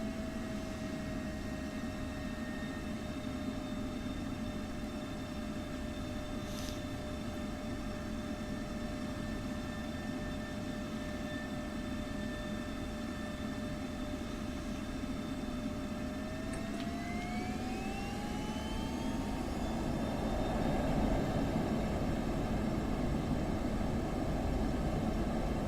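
An F-16C fighter jet in the DCS flight simulator taxis and then takes off, a steady engine whine and roar with tones that rise and swell toward the end as thrust builds, heard alone without talk.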